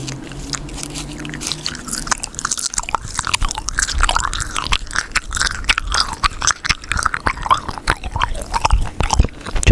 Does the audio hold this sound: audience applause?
no